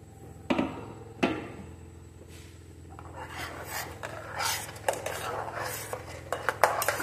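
Custard apple pulp being mixed into thick rabdi with a spoon, starting with two sharp metal clinks against the vessel, then a stretch of busy scraping, clattering and stirring close by over a low steady hum.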